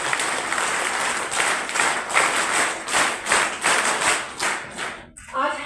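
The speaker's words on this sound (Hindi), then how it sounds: "एक बार उनके लिए जोरदार तालियां हो जाए" An audience at a formal ceremony in Bhilwara, Rajasthan, honoring an NCC officer from Ajmer, applauds loudly in steady rhythmic swells for several seconds before it fades and a voice begins.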